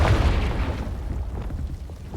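A Confringo fire spell from the game Hogwarts Legacy goes off as a deep, rumbling explosion that booms hardest at the start and then rolls on as a heavy, fading roar.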